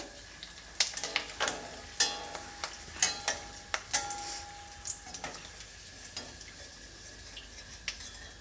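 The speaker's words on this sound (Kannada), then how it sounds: "ಎಣ್ಣೆ ಚೆನ್ನಾಗಿ ಕಾದಿದೆ ಇವಾಗ ನಾನು ಇದನ್ನು ಹಾಕ್ತಾಯಿದ್ದೀನಿ" Dried buttermilk chillies drop into hot oil, giving a soft, steady sizzle broken by sharp crackles and pops at irregular intervals, faint and close with no talking.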